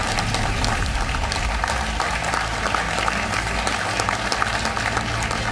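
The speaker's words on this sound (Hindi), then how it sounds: "यही वो पल है जब तालियों से पूरा भारत मंडपम गूंज उठा।" A large crowd in the Bharat Mandapam hall at the G20 Summit applauds loudly and continuously, dense clapping echoing through the venue without pause.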